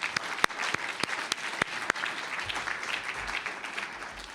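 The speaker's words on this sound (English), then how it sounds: "So I really hope you'll give Cassandra a round of applause" An audience at a university teaching-day event applauds; several sharp, separate claps ring out at first, then blend into a steady, moderately loud wash of clapping.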